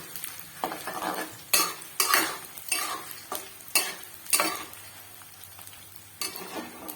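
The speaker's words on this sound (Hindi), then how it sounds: "ये फूलने लगेगा इसको तेल में डालते ही, घी में डालते ही" Edible gum (gond) fries and puffs in hot ghee for gond laddu, a crackling sizzle punctuated by repeated stirring scrapes and clinks of a metal spoon against the pan, close and uneven in rhythm.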